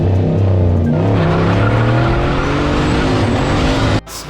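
A Pontiac GTO doing a burnout on street tires, engine roaring loud and steady with a shrill tire squeal layered over it for about four seconds before cutting off abruptly.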